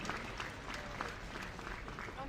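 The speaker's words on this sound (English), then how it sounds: "big round of applause, category 1, international referee," Audience applause at a powerlifting nationals meet, greeting a referee: a steady, dense wash of clapping held at even loudness from start to finish, with a voice faintly mixed in.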